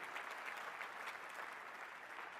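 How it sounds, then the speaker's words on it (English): An auditorium audience applauds dancers after an opening keynote performance at a conference, dense, even clapping filling the hall at a steady level from start to finish. "How about a round of applause for those amazing dancers and starting off with so much great energy?"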